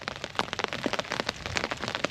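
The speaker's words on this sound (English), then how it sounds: "I think it's just a rain, Uncle Sheldon." Rain falls outdoors in the Jamaican countryside, a dense close patter of drops hitting surfaces, steady and fairly loud with no talking.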